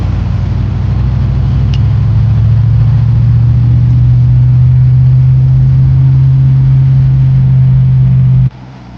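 A car driving steadily after a carburetor swap, its engine giving a loud, continuous close-up hum that holds an even note before cutting off abruptly near the end.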